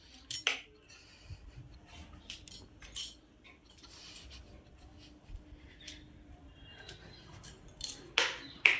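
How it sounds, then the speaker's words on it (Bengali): Dishes, pots and cutlery being handled for washing in a home kitchen: light, scattered clinks and scrapes come close and fairly quiet, with a few sharper knocks against a faint steady hum. "তো চলো বাসনগুলো মেজে নিই।"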